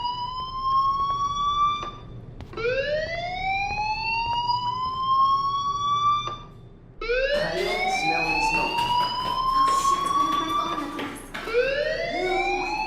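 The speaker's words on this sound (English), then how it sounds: "do you hear that fire alarm?" An alarm wailing in the video game Life is Strange, loud rising electronic sweeps repeating in long cycles, layered and overlapping later on, with no talking.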